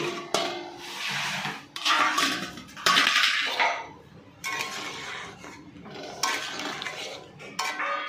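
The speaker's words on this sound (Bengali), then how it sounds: "আমি এবার ঢাকনাটা খুলে দেখছি" A cooking pot lid is lifted and set down with metallic clanks and scrapes, among bursts of bubbling and utensil noise from a simmering chicken dish, close by with no voices.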